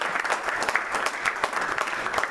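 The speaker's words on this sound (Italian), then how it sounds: "Io gli farei un applauso perché è riuscito." Audience applause at a StartupGrind Veneto event fills the space with dense, steady clapping from many hands, fairly loud and continuous for a couple of seconds without talk.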